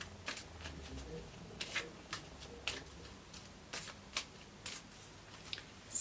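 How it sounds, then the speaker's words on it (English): A deck of playing cards is shuffled by hand in a quiet room, giving a series of soft, crisp riffling bursts and flicks spaced irregularly, close to the listener and fairly faint, with no speech. "I'm gonna shuffle again."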